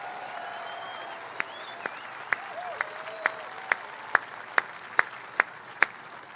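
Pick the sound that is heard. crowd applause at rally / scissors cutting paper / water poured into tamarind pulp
crowd applause at rally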